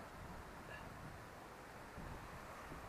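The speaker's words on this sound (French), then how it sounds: "Le vent s'est levé, ça va pas être pratique." Wind blows at a fishing spot, a steady broadband rush of gusty noise buffeting the microphone with no clear voices, continuous throughout.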